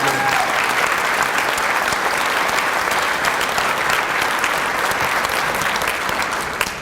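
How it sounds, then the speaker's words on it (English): Steady, dense applause from an award ceremony crowd after a singing performance fills the whole stretch, loud and sustained, tapering slightly at the very end. "Nice applause for Dawn and her wonderful"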